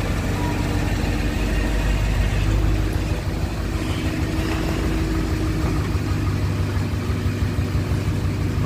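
An Audi A8 engine runs steadily as the car is driven out, a loud, close, continuous low rumble with little change in pitch and no one talking.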